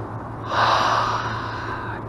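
A person takes a deep sniff beside a lake while fishing for carp and bass, a single long breathy inhale lasting over a second, close to the microphone over a low background hum.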